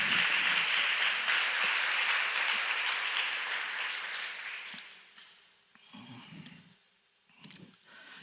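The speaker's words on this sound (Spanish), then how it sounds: "Dale un gran aplauso al Señor." A church congregation claps loudly and steadily, then the applause fades out, leaving a few scattered claps and soft noises near the end.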